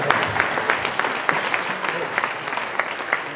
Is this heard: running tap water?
no